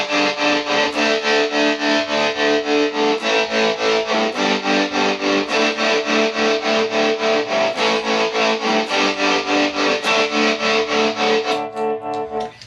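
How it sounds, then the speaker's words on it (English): An electric guitar driven through a distortion pedal on a pedalboard plays a loud, saturated, chopped-up figure in a fast, even pulse of repeated stabs, then trails off into a brief decay at the end. "Add a distortion to it."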